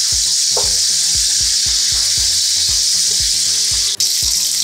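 Flipped pieces of fish frying in white oil give a continuous loud sizzle and spatter, with a steady pulse of low clunks throughout and a brief dip near the end.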